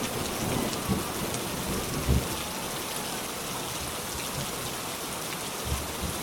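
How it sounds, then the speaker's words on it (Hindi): Heavy rain pours steadily in a continuous hiss, with low thunder rumbling faintly a few times beneath it. "उस रात रामपुर में ऐसा तूफान और बारिश आई"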